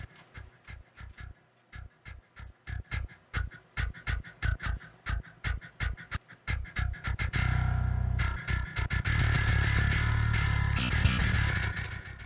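Metal mix heard at low volume through the Lone Gain preset of the Gin Bass plugin: a run of short, evenly spaced chugged hits, then a dense, sustained distorted wall of sound for the last few seconds.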